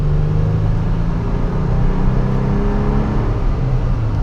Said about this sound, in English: it does have a bit of a cough at higher RPMs if you're really getting on it